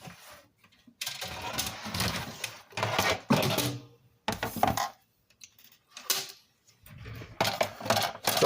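A crafting paper trimmer cuts through paper sheets: close, raspy slicing strokes in several separate bursts with short pauses between them.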